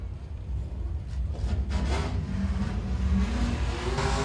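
Modified race car on its victory lap at Langley Speedway, its engine droning and rising in pitch as it accelerates around the track, moderately distant under crowd-level ambience.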